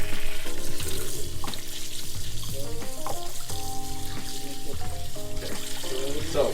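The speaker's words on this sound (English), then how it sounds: "So once those are rinsed," Tap water runs steadily into a sink while raw pork chops are rinsed under it, close and continuous, with occasional clunks and knocks over the flow.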